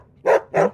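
A dog gives two sharp, loud barks in quick succession, close by, with nothing else around them.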